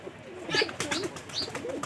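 A pigeon kept by a breeder coos softly close by in a few low, throaty bursts. Light background noise sits under it and no one speaks.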